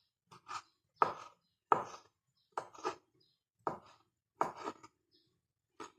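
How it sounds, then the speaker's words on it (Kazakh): A knife chopping sausage into small pieces on a cutting board: a run of crisp, close chops in short uneven clusters with brief pauses between them, no voices. "Осыны ұсақтап тураймыз."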